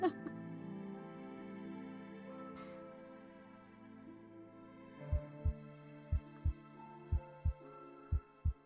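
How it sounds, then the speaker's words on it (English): Heartbeat sound effect in a video game: steady, evenly spaced low thumps, about eight beats, coming in over sustained ambient music and building to a clear, prominent pulse. "I put my ear to his chest to hear his heartbeat and breathing."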